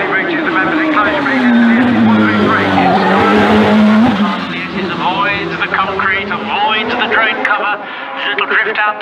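Race car on the Shelsley Walsh hill climb course, engine rising and falling with tyre squeal as it drifts toward the line, heard under continuous commentary.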